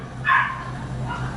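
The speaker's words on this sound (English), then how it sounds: "I don't know what them dogs is going off for" Dogs outside give a single sharp bark followed by a fainter yip, heard at a distance over a steady low indoor hum.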